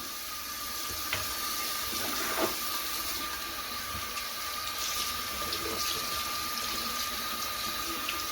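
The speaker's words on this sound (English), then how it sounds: "The water runs clear." Tap water runs steadily into a sink while a makeup brush is rinsed under it, a continuous close hiss and splash with small knocks now and then, no talking.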